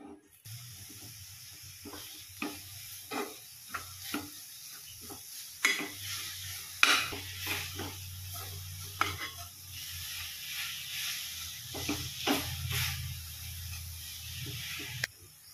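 Semolina modak filling with jaggery is stirred and roasted in a pan, giving a soft continuous sizzle broken by scraping spoon strokes and occasional taps against the pan, fairly close and quiet.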